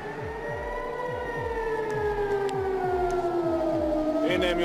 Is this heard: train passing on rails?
no